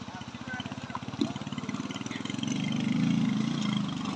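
A motorbike engine roars up close while riding across a river bridge toward the India border, its rapid throbbing pulse building louder toward the end, with a voice speaking over it.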